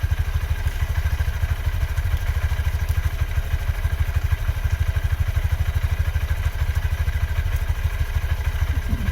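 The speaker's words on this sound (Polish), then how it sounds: "Motorek sobie cały czas chodzi" A Honda CB125F motorcycle engine idles close by with a steady, rapid chugging rhythm that never changes pace, loud and unaccompanied by talk.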